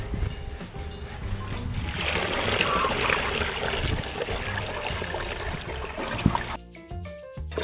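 Water is poured repeatedly over wheat kernels in a container to wash them, making a steady splashing, trickling rush that swells midway before fading into a few clicks and drips.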